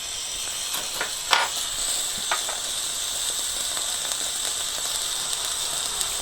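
A steady hiss and sizzle as platinum metal is melted with a flame onto a potato, with a few brief crackles and pops over a constant roaring hiss.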